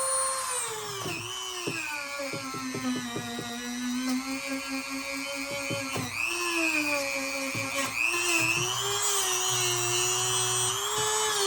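A Dremel rotary tool grinds a knife blade during restoration, its high whine rising and falling in pitch as it bites into the metal, loud and close, with brief pauses and clicks between passes.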